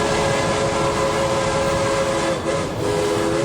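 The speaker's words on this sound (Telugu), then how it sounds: "ఏదో ట్రైన్ శబ్దం వినిపిస్తోంది." A train rumbles steadily, close and loud, with sustained horn-like tones running over it, used as an eerie sound effect in a horror story.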